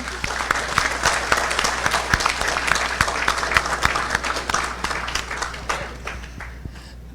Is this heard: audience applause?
yes